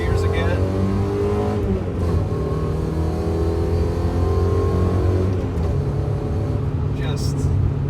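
A car with a newly installed brass shifter bushing, its engine running loud and steady up close, pitch rising then dropping twice as it shifts through the gears while driving.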